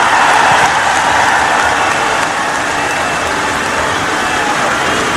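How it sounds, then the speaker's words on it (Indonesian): Heavy, steady downpour hisses continuously and loudly across the whole stretch during an outdoor Islamic religious gathering, a dense broadband wash with no distinct drops and no clear voices above it. "Suara hujannya ganggu."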